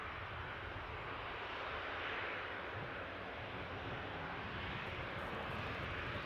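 TUI airliner jet engines at Newcastle airport, a steady broadband roar that holds at the same level throughout, distant and continuous with no voices over it.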